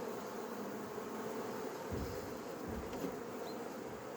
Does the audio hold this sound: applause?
no